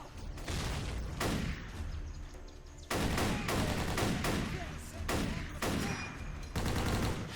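Rapid gunfire from a video game battle as a steady wave of enemies is mowed down, with loud repeated bursts and volleys packed tightly together and short breaks between them.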